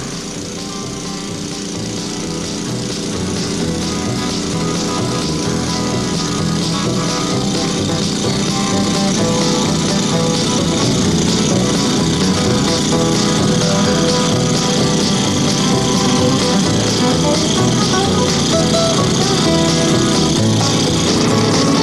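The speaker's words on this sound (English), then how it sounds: "This amazing little machine does operate on the same principle as a conventional dredge in that it sucks up sand and gravel" A homemade bazooka-style gold dredge runs steadily, its engine drone mixed with the rushing, gritty churn of sand and gravel being sucked through; loud and continuous for the full length, with no talk.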